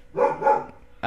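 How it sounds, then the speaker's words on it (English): A pet dog gives two close, loud barks in quick succession in a home, and a third bark starts abruptly at the very end. "sorry, that's my dog barking"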